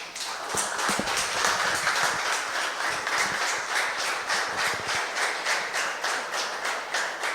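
A church congregation claps in a quick, even rhythm after a prayer, loud and close, the sharp hand claps repeating steadily with little talk over them.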